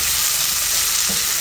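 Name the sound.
sautéing bitter gourd with onions and garlic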